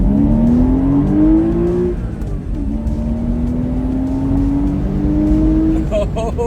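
A yellow Porsche's engine revs hard and accelerates along a road, loud and close, its tone climbing steadily in two long pulls with a brief dip between gears.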